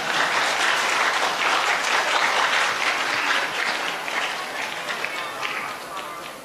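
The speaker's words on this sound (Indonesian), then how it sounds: "Silakan kalau mau tepuk tangan" A seminar audience claps in a sustained, dense burst of applause that stays loud for several seconds, then tapers slightly toward the end, with a few voices mixed into the crowd noise.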